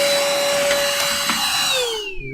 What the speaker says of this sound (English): The data blowers or whatever, like the computer little mini blower things.